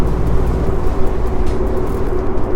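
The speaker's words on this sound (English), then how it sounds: "just a bit of road noise" Steady low rumble of road noise inside a moving 13-year-old Subaru WRX Hawkeye with the air conditioning running, a continuous broadband drone with a faint hum, no one talking.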